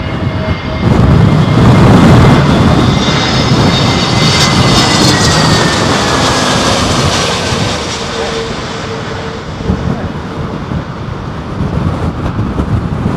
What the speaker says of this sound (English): that must have been a very late go around then